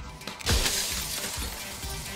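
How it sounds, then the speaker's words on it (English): Mirror glass cracking and bursting into shards in the video game Slay the Princess: one sharp, loud shatter with a scattering of fragments, followed by a lingering tinkling tail. "And then another crack forms, and another, turning the mirror into jagged shards of broken glass."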